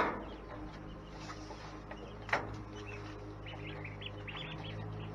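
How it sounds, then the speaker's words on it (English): Little ducklings in a chicken and duck pen give faint high chirps in short scattered clusters over a steady low hum. One brief louder knock stands out in the middle, and no voices are heard. "Got little ducklings"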